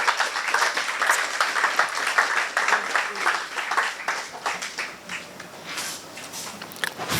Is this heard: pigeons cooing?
no